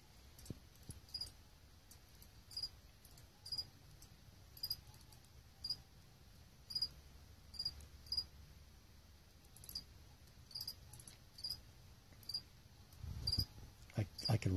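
A feeder cricket chirps in a tarantula enclosure, short high-pitched chirps repeating at a fairly regular pace, faint against a quiet background, with a low thump near the end.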